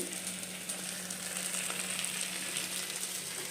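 Beans frying in an oil tempering in a pan, giving a steady, continuous close sizzle with light crackle and no talk.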